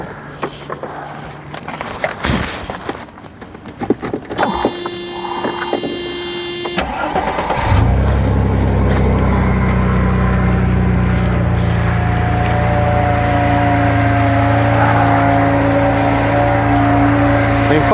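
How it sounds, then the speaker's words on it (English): A Mercedes 300E with a fuel problem cranks briefly, fires and settles into a steady, loud, close idle, with someone speaking faintly before the start. "I'm gonna go ahead and start this car, and let's just see if it happens to smooth out"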